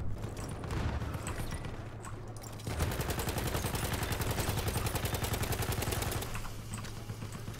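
Battlefield 1 video game gunfire, a long sustained machine-gun burst of fast regular shots following scattered earlier fire, moderately loud amid a low background hum, no voices.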